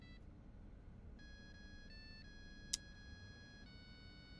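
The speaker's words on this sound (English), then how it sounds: "I can hear the phone ringing." A prototype telephone rings in a video game with a steady, sustained electronic ringtone, a clean tonal ring changing pitch in steps over a low background hum, with one brief click partway through.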